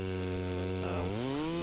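Ported Farmertec Stihl MS660 chainsaw running steadily and loud up close, holding a high drone before the pitch dips briefly and climbs back as the engine loads and revs.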